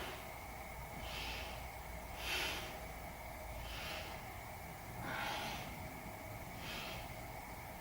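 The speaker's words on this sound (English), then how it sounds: "Take some nice deep breaths down to the belly." Slow deep breathing during a yoga pose, five soft swelling breaths repeated at a steady pace, close but faint under a constant background hum.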